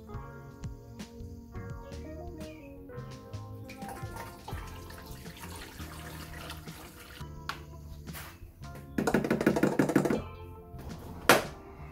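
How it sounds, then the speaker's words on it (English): A water and coolant mix pours steadily into a 1989 K1500 truck's coolant reservoir nearby, with a louder gush near the end and scattered small clinks and taps throughout. "fill up the coolant reservoir to between the minimum and maximum mark. So this is a mix of water and coolant"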